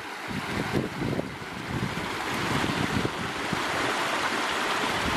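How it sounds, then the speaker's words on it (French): A small mountain stream gurgles steadily, a close, full broadband rush of water with wind buffeting the microphone, continuous and fairly loud with no voices. "Sympa ce petit ruisseau et son glouglou."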